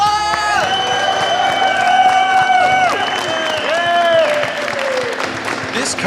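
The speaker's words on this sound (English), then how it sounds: "let's give him a round of applause!" Audience at a Blue Collar Tour welding academy event in Denton, Texas, claps and whoops for Mr. Tapley: steady, dense applause with high cheering calls rising over it throughout.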